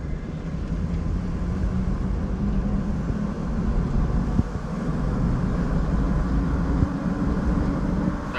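A vehicle engine with overdue oil pulls steadily after a shift into second gear, a continuous low rumble holding at an even level throughout with a brief knock midway and no talking.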